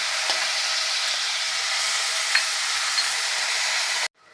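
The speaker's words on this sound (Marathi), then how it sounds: "त्यासाठी आपल्याला हे चांगलं परतून घ्यायचं आहे हलकंसं सोनेरी रंगावर आपल्याला परतून घ्यायचं आहे" Ground masala paste with mustard seeds and asafoetida sautéing in a pan, a loud steady broadband sizzle running without a break for about four seconds before cutting off abruptly, with no talk.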